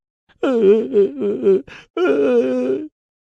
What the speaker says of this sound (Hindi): दोनों बच्चे रोने लगते हैं।